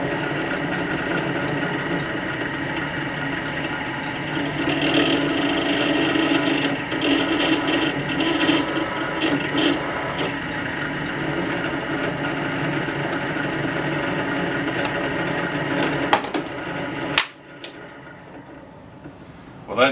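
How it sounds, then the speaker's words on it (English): A 16 mm Forstner bit spins against a piece of scrap aluminum but fails to start cutting, giving a steady, droning mechanical whir that holds for about seventeen seconds before cutting off abruptly. "The Forstner bit wouldn't even start on the aluminum."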